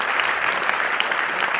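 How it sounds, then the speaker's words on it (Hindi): Loud, dense applause from a large audience at a tribute event for actor Om Puri, many hands clapping at once in a continuous burst. "मैं चाहता हूं कि इनके लिए आप अगर जोरदार तालियां बजाएं"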